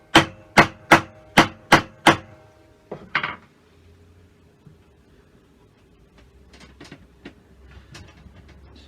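A chisel cuts a knife wall into wood: six quick, sharp, close knocks in a steady rhythm, a short cluster of further strikes, then quiet, faint scraping.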